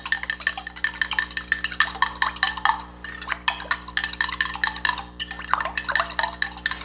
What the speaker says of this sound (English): I'll just whisk it all together with a fork